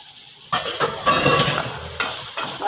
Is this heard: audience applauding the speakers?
no